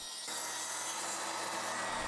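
Sawing through 3/4 inch plywood for a kitchen island base, a steady, close, continuous rasping cut that runs without a break for about two seconds.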